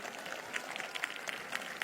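A prayer-meeting congregation at the Prophet Bajinder Singh Ministry claps together, a faint, steady patter of many hands with a few sharper slaps standing out.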